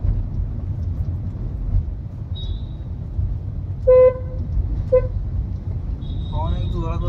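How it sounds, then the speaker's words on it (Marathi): Loud car horn blasts from a vehicle on a rough Pune road, a couple of short honks then a longer one, heard from inside a car over steady road rumble, with a voice speaking near the end. "हॉर्न एक जोरात बसते ना, गाडीत आहे म्हणून ऐकायला येत नाही पण जोरात बसते हॉर्न।"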